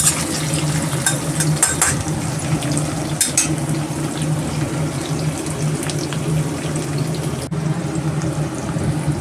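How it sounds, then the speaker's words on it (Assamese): Onions frying in mustard oil with two bay leaves and a little cinnamon, cooking until lightly browned for a traditional Assamese chicken dish: a steady, close hiss and sizzle with faint stirring clinks throughout, and no talking. "ধনিয়া তেলতে মই তেজপাত দুটা দি পেলাই অকণমান দালচেনি দি পেলাই পিঁয়াজখিনি মই ভাজি ল'লোঁ।"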